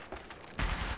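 Burst of automatic gunfire in the mobile shooter Apex Legends Mobile, from weapons like the R-301 and EVA-8 Auto, quiet at first and then a louder rattling volley in the second half.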